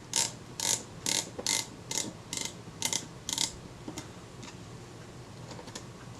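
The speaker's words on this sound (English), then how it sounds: "And I'll get my film advance lever in place." A film advance lever being fitted on a Kodak Retina IIa camera, heard as a rapid series of small, close mechanical clicks and ratchet ticks, followed by a few fainter isolated clicks.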